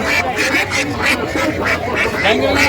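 Repeated loud quacking of several ducks close by at a riverside poultry market, rapid and overlapping, with a person talking underneath.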